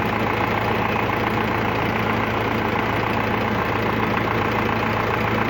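A YuMZ tractor engine fitted with a centrifuge oil filter adapter runs hot at a steady idle, a loud continuous diesel drone with a faint knocking pulse close by.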